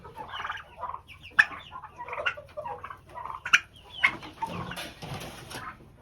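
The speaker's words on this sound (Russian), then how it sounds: "в 2 месяца индюки, конечно, очень хорошо подросли" Two-month-old turkeys out on grass make a run of close clucks, soft chirps and sharper yelps, irregular and overlapping, with some rustling toward the end.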